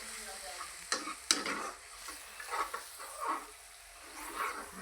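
Onion, garlic and chillies fry in a pan with a faint, soft sizzle, punctuated by a couple of sharp utensil clicks and gentle stirring scrapes, heard quietly and alone.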